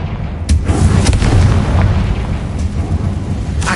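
Confringo fire spell blasts in Hogwarts Legacy hit as loud booming explosions, a sharp burst near the start followed by rolling rumbles and further impacts, with no talking.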